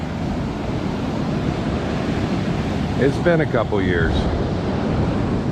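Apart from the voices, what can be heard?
Atlantic Ocean waves on a beach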